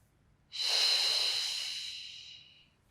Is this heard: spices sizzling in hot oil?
no